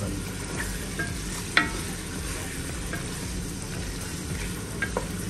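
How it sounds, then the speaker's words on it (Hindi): Chicken pieces frying in a pan for a chicken and potato dish, a steady close sizzle with a few sharp pops and stirring clicks, no voices. "दो से तीन मिनट चार मिनट तक इसको फ्राई करेंगे"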